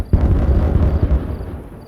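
Dynamite blast in the beaver colony-building game Timberborn, a single loud explosion bursting in abruptly, then a rumbling, crackling tail that fades out over about two seconds with no voices.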